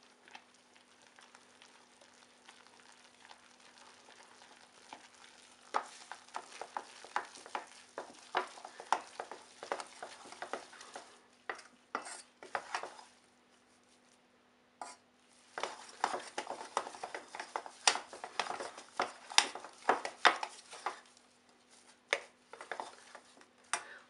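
Flour being stirred into melted butter for choux pastry, off the heat, with bursts of scraping and knocking against the pan that come and go, fairly close, with no talk.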